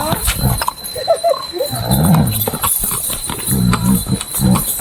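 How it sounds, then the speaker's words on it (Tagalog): Horse clip-clopping along a mountain trail on a Mount Makiling day hike, with irregular hoof knocks close by amid outdoor background noise and brief voices. "Ayan, kabayo."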